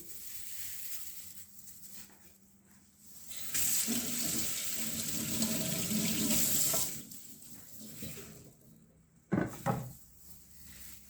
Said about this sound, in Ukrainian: Змиємо під проточною водою